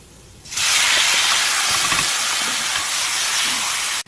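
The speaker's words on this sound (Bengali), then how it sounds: "তেলটা একটু হাই আছে গরম করার পর এতে দিয়ে দেবো রসুন কুচি করে রাখা দিয়ে দেবো। এবার রসুনটা এরকম রং আসার পর এতে এবার মাংসটা দিয়ে দেবো" Marinated pork goes into hot oil with chopped, browned garlic. A loud, steady sizzle bursts in after a quiet half second, hisses evenly, then cuts off abruptly near the end.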